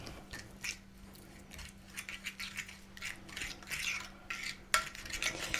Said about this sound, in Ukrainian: Тепер треба гарно все перемішати.